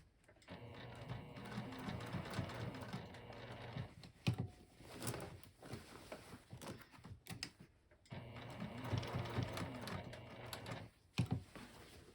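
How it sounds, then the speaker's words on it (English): Domestic sewing machine stitching a knitted project bag, pivoting at corners, with bursts of rapid needle chatter separated by brief pauses and handling clicks, fairly quiet and close. "I'm just lifting the presser foot and spinning the bag to pivot at the corners."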